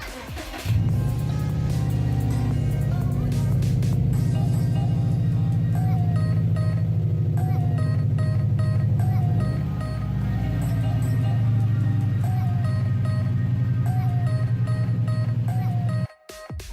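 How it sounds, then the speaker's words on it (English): A 2007 Subaru STi is pulled out, its engine giving a steady, close, low rumble that holds for most of the stretch before ending abruptly. "I'll pull my car out actually so you can get a better look."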